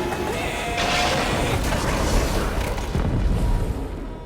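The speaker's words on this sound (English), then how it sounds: "Pete is killed in a huge explosion." A huge explosion in a film, a loud sustained roaring blast with rumbling debris that fills the whole stretch and fades slightly at the end.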